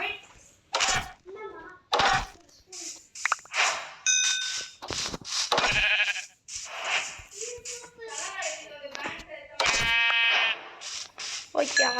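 Sheep bleating in the Minecraft video game, short repeated bleats alongside other clicky game sound effects, with a person talking over much of it.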